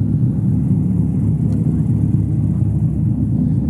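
Engine of a tuned car, likely a Honda Civic EK, rumbling steadily at a nearby idle: a loud, continuous low throb with no revs or breaks and no voices.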